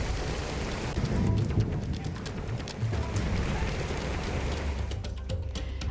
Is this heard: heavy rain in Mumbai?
yes